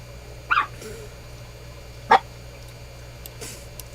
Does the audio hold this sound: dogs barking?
yes